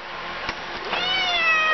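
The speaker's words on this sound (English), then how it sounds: "Baby cat." A young cat gives a short meow that rises into a longer, drawn-out cry, close by and fairly loud, with no talking over it.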